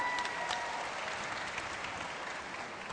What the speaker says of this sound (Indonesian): Kita kasih tepuk tangan Akbar Faisal.